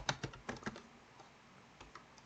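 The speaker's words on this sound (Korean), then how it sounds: "열 레이블이라는 셀을 클릭해서 개발사라고 타이핑해 주세요" Computer keyboard typing during a spreadsheet lesson: a quick burst of several keystrokes near the start, then fading into quiet room noise, no talking.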